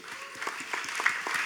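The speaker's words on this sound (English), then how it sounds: "A round of applause." A conference audience gives a brief, moderate round of applause to welcome a speaker, with scattered individual claps standing out over a soft crowd patter.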